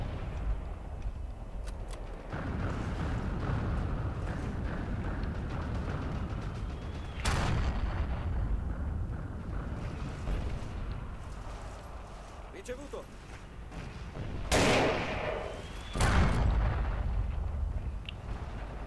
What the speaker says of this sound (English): It's enough explosion for one day.